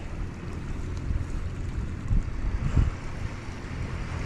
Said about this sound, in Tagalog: medyo lumakas na rin yung hangin eh